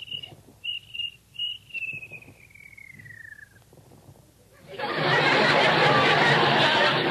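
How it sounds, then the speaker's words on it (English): A cricket sound effect from a 1949 radio comedy chirps in steady short bursts that fade downward, then gives way to a loud sustained hiss of noise; voices are briefly heard alongside. "Please, Mr. Cricket, George has work to do. Won't you please be quiet"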